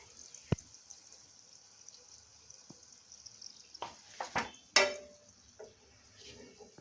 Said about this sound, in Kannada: ಹೀಗೆ ನೋಡಿ ಚೆನ್ನಾಗಿ ಎಣ್ಣೆಯಲ್ಲಿ ಅದನ್ನು ಕರ್ಕೋಬೇಕು